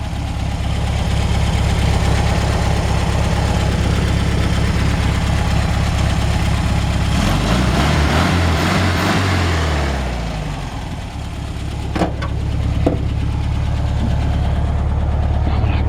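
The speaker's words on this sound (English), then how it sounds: "Great little running engine" 1964 Volkswagen Beetle air-cooled engine idling, a steady, loud low chug with a fast even pulse, briefly wavering midway before settling back, with a couple of sharp clicks near the end.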